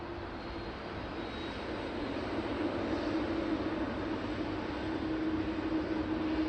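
At Sydney Airport, the A350-900 airliner taxiing toward runway 34 left gives off a steady, distant jet engine rumble and whine that holds unchanged throughout, with no voices.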